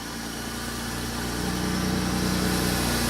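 The engine of a 2001 Pontiac Bonneville with a misfire idles in a steady, loud, close rumble, with a low pulsing throb and a constant hiss, all on its own.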